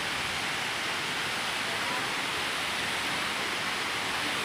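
Waterfall flowing beside a grotto at Hinulugang Taktak in Antipolo, Rizal, giving a soft, even hiss of falling water from some distance, steady and unbroken.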